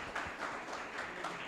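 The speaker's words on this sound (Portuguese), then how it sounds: "Vamos aplaudir o Senhor Jesus" Church congregation applauding during a Sunday morning service, a faint, steady patter of many hands clapping together, fairly distant and with no clear talk over it.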